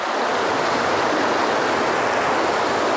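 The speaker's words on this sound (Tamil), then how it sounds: "இந்த ஆறில் போகிற தண்ணியோட சவுண்டு எப்படி இருக்குன்னு பாருங்கள். நீங்களே கேளுங்க." River water flowing through a forest in the Western Ghats, a steady, loud, continuous rushing that stays even throughout with no voices.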